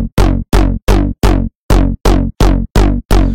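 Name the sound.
acid bass line loop from a Serum preset, no effects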